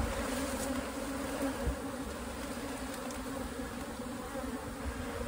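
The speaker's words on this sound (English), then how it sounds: "I'm going to continue to just brush these bees off of here" Swarm of honey bees buzzing around a hive box, a dense, continuous, close droning hum that holds steady throughout, with no voices.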